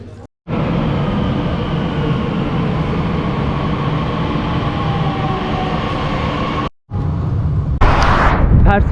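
A metro train in Shiraz, Iran, rumbles steadily from inside the car, a continuous loud roar with a brief dropout and a sharper burst near the end.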